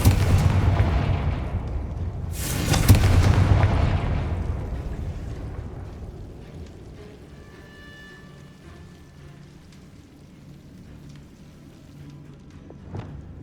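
Confringo blasting spell explosions in the Hogwarts Legacy video game: one loud, broad boom burst near the start that rumbles and fades into a low, long tail, with faint ringing tones and a small pop near the end.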